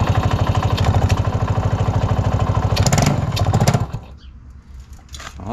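A vintage motorcycle engine fires without priming and runs with a fast, loud, even chugging beat for about four seconds, then drops away to quieter rattles and background noise.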